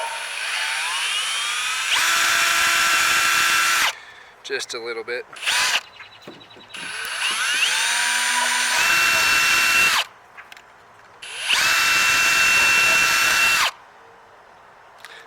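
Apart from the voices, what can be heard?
drill boring holes in kayak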